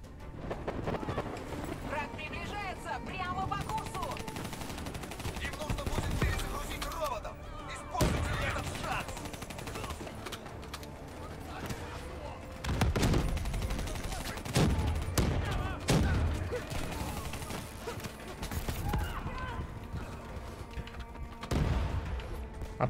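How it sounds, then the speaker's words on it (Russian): Bursts of rapid gunfire in a Call of Duty: Black Ops 3 firefight, volleys recurring across the stretch with short gaps, loud and dense, with a voice talking over parts of it. "По мне кто стрелял?"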